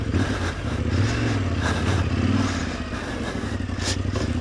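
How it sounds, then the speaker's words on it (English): Yamaha Tenere 700 rally motorcycle ridden through sand in Morocco, a loud close engine drone with rising and falling revs, rattles and wind, continuous throughout. "Good Tenere ring"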